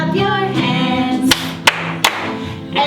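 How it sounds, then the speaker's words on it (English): Three sharp hand claps ring out in a slow, even rhythm over upbeat music, close and crisp. "Clap your hands,"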